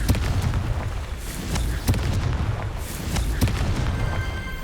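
Explosions from the Confringo spell in Hogwarts Legacy, a series of fairly loud booms and sharp bursts spaced roughly a second apart over a dense rumbling background.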